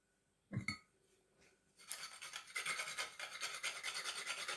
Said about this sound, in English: The other thing I'm going to do is grate a little bit more nutmeg